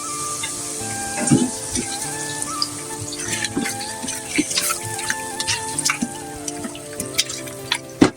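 Chicken goes into onion masala frying in oil, giving a steady close sizzle and crackle with stirring clatter and a sharp clink at the end.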